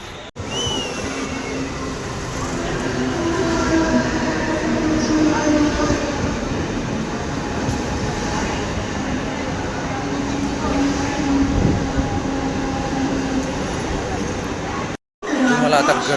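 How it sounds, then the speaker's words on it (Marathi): A train pulls into a busy railway station platform on a line serving Chhatrapati Shivaji Maharaj Terminus, with a steady, loud rolling rumble and a murmur of crowd voices throughout. "ट्रेन येईल आता."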